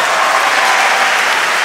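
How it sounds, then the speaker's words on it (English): England teammates stand at the back of a badminton court at the 2015 European Men's Team Championships, applauding a young player with steady, dense, loud clapping that fills the whole moment without a break. "England teammates on their feet at the back of the court, applauding the youngster"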